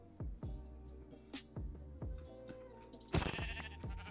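Minecraft sheep bleat in a survival game, several short wavering bleats spaced through the clip over quiet in-game sounds and footsteps, with a louder burst near the end, all fairly faint.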